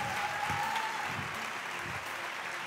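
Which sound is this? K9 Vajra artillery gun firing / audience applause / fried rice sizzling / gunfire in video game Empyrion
audience applause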